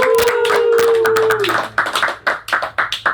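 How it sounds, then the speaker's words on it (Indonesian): Audience applause for a visiting blues band at a live show, starting as a dense wash with a tone beneath, then thinning into scattered separate claps toward the end. "Tepuk tangan dulu dong."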